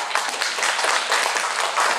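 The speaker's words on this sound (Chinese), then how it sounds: "给他鼓掌。" At a meeting where a chairman is introducing guests, an audience applauds with dense, even clapping that stays steady and fairly loud throughout the two seconds.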